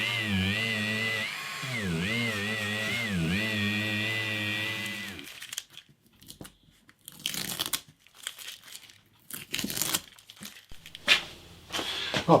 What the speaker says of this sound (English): And then I'll just polish it with the Dremel.